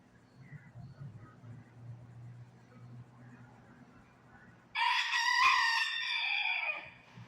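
Inside a laundromat, a lost rooster gives a single loud, near crow of about two seconds after a stretch of low machine hum.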